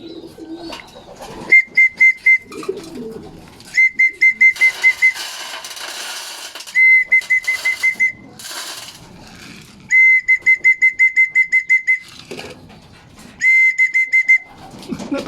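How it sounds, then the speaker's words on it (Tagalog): A whistle blown to train young racing pigeons sounds in loud bursts of rapid, trilling pips, about five groups repeated with short pauses between them, close and dominating, with faint background noise in the gaps. "turuan na natin sa pito tong mga inakay"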